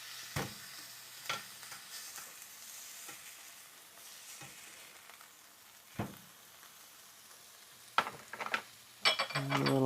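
Salmon fillet sizzling steadily in a frying pan, broken by sharp clacks of a utensil on the pan as the fish is flipped, with a brief clatter and brighter hiss near the end.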